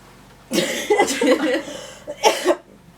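A few sharp coughing bursts, close and fairly loud, with a short pause before a final pair.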